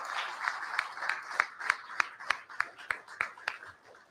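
Sports awards audience at a high school football awards event in a sports bar and grill giving a round of applause, rhythmic unified clapping with distinct beats, moderately close and fading near the end.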